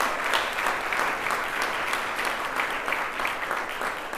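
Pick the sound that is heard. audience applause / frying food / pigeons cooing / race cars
audience applause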